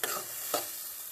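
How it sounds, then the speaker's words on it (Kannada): Onion and tomato tempering sizzles in hot oil, a bright steady hiss broken by two short stirring scrapes, close and loud, with no voices. "ಈ ಕಡೆ ನೋಡ್ರಿ ಅದ ಎಣ್ಣೆಗೆ ನಾನು ಇದು ಒಗ್ಗರಣೆ ಹಾಕಿದ್ದೆ ರೀ"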